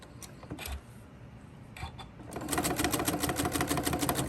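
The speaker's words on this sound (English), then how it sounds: "I'm going to take a couple stitches and then back stitch, and then I'm just going to go right around." Sewing machine stitching where three fabric pieces meet: a few short bursts of stitches, then a steady fast rattling run of needle strokes, close and clear.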